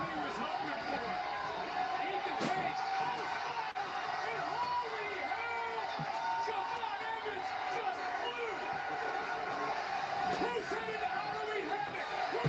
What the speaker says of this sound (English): Crowd's going insane. NXT chants.